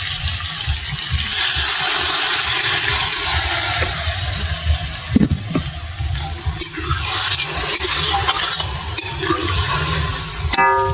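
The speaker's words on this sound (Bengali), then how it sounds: "এবার আমি জল ঢেলে দেবো অল্প করে।" Water is poured into a pan of sautéed potato masala, a steady splashing, hissing rush that runs continuously and close with a few small clinks near the end.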